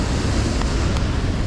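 Steady broadband rush of a river waterfall, continuous and fairly close, with no voices.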